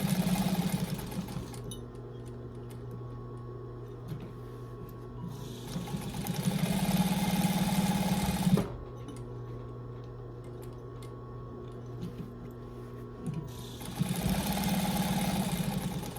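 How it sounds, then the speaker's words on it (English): A sewing machine stitches along the edge of a fabric coaster, its close, fast mechanical whir running in several bursts with short pauses between them, over a faint background hum. "And I'm just sewing right on the edge."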